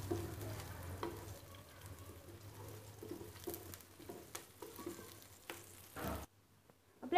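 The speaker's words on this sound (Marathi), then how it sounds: "मध्यम आचेवरती आपल्याला हलकासा रंग बदलोस्तो रे परतून घ्यायचंय" Green chillies fry over medium heat in a pan while being stirred, a soft, fairly faint sizzle broken by scattered scrapes and taps, ending abruptly in near silence.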